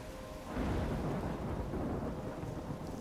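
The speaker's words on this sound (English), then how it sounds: "I'm trapped in a storm?" Rumbling thunderstorm in the video game Life Is Strange, a deep rolling boom that swells and lingers over steady rain noise, loud and enveloping with no voices.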